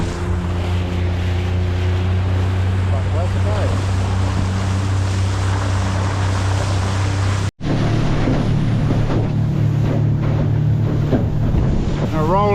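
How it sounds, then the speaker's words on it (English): A small boat motors over lumpy sea while trolling, with a steady low engine drone, water slap and wind buffeting the microphone throughout, and a brief dropout midway. "A little bit lumpy out here in the small boat"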